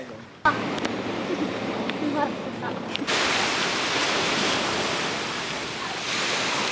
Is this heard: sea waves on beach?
yes